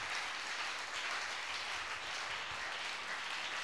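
A church congregation applauds, a dense steady wash of clapping hands that stays even throughout, filling the room with no voice above it.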